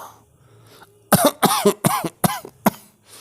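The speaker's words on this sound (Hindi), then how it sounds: "कहते कहते उसे खांसी आ गई और वह देर तक खांसता रहा।" A burst of harsh, repeated coughing from an old man, about six loud hacks in close succession, followed by a quieter throat-clearing sound.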